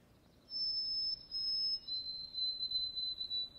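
A white-throated sparrow sings a few clear, high whistled notes, sustained and slightly stepping down in pitch, fairly faint against a quiet outdoor background.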